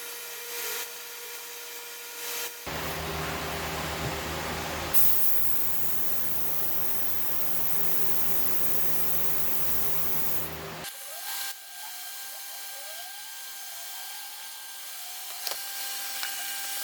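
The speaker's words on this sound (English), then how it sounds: "So now I'm going to do a couple passes to demonstrate how to spray." A paint spray gun hisses steadily as it lays Rustoleum Regal Red onto the edge of a door in a narrow fan pattern, one loud sustained burst of about eight seconds between quieter background hum.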